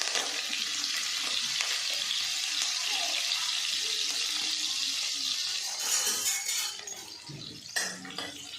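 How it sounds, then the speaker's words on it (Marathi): Ginger and green chilli frying in a pan for vegetable momos, a steady close sizzle that carries on throughout, with a few stirring scrapes toward the end and no talking. "नंतर अद्रक टाकूया, थोडंसं परतून घेऊया"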